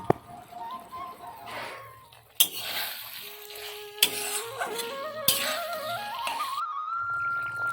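Potatoes and pointed gourd with spices stirred in a pan, with scraping, clinking utensil sounds and brief sharp knocks against the pan, close by, with a voice speaking intermittently.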